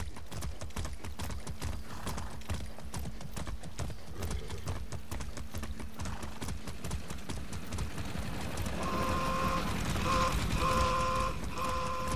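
Steady clip-clop of horse hooves at a walking pace during first-person horseback riding in the video game Far Cry 6, close and continuous, with a high musical tone joining near the end.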